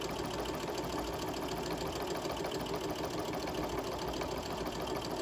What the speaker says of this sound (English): I'm just going to do a basting stitch all the way down this piece